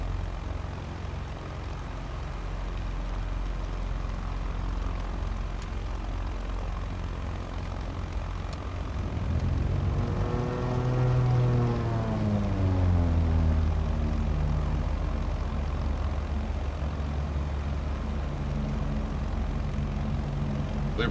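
A propeller aircraft engine cranks and catches in Microsoft Flight Simulator 2024, the steady background hum giving way at about ten seconds to a louder, rising harmonic roar that settles into a running drone.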